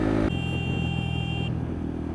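A vehicle speeding past on a highway between Bangalore and Puducherry, a sharp change in engine roar then a steady low rumble with a lingering tone, no talk.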